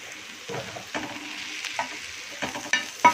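Onions and tomatoes salted and sautéing in a pan for roadside-style egg kothu parotta are stirred with a spatula, giving a series of scraping strokes over a loud, steady frying sizzle.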